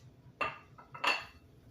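Spoon scraping and knocking in a pan while stirring a chicken broccoli casserole, two short close metallic strokes in quick succession, no talking.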